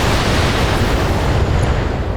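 Volley of missile explosions from a BattleTech mech in combat, a dense continuous roar of overlapping booms and rumbling bursts, loud and sustained throughout.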